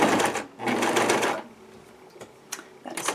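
A sewing machine stitching a throw pillow in two short close bursts of whirring, a pause with faint handling noise, then another brief run starting at the end.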